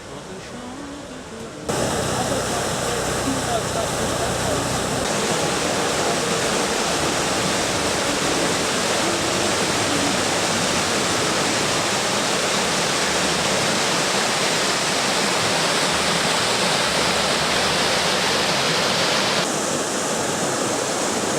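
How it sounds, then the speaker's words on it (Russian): The small waterfall in Viktoriapark, Berlin, gives a loud, continuous rush of falling water, steady and close throughout, with no voices heard. "Этим водопадом славится этот парк Виктория."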